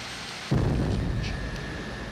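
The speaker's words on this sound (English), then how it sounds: "each of the SR's huge power plants requires a jump start from two 454 cubic inch Chevy engines" A broadband roar abruptly kicks in and holds steady, loud and close, as an SR-71 Blackbird jet engine is started on the ground with help from two 454 cubic inch Chevy starter engines.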